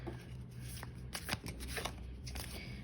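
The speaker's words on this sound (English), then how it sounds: "I always preferred the side shuffle like this" Tarot cards being side shuffled, a steady run of soft papery slides and riffling flicks, close and fairly quiet, with no talking.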